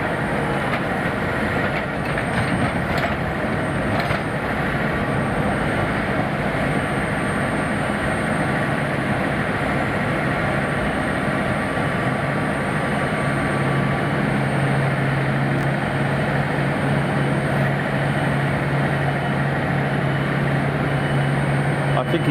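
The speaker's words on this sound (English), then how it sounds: "Because the engine also needs a bit of time to warm up." A jet engine running at Munich airport as an aircraft warms up before taxiing, a loud continuous roar with a steady drone that holds for over twenty seconds, heard from nearby and without talking.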